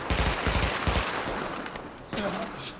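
Rapid automatic gunfire emptying a magazine in Tom Clancy's The Division video game, a loud burst of shots that tails off, followed by a softer mechanical clatter.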